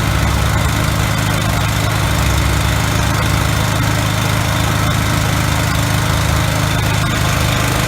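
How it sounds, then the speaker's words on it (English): A 5.5 kW diamond floor grinder running together with a dust extractor, a loud, constant droning motor hum with steady vibration throughout and no pauses. "We're going to turn on the grinder."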